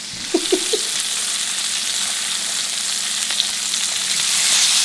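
Onions and peppers sauté in a hot pan over high heat, a steady close broadband sizzle that holds for the whole stretch, with a few brief clinks near the start and no one talking.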